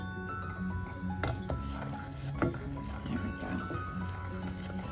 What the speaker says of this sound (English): And we're just gonna stir that all together.